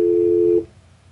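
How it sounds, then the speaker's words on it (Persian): A steady telephone tone sounds loud and alone for about half a second after a call to a Persian-language TV broadcast is cut off, then abruptly stops, leaving faint background hiss. "تلفنی که شد من تا اومدم جواب بدم قطع شد"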